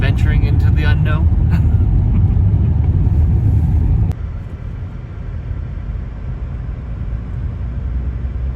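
A car drives into town with a loud, steady road and engine rumble from inside the cabin, easing slightly partway through.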